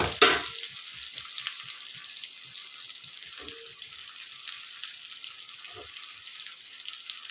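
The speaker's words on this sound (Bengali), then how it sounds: "অল্প একটু ভেজে নেব" Okra frying in oil with gram flour gives a steady close sizzle, broken by a few soft scrapes of a spatula stirring through the pan.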